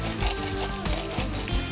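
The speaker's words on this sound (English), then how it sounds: "Then we want to be sure to season with some fresh ground pepper" A hand pepper grinder cranks fresh pepper over a skillet, a close, rhythmic grinding rasp with regular pulses from each twist running continuously and fairly loud, with no voices.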